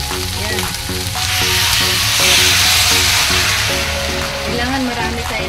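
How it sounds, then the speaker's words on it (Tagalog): Soup stock hits a hot pan of sautéed pansit bihon, giving a loud steady sizzle and hiss that swells to a roar, with a voice talking underneath. "maglagay na tayo ng soup stock"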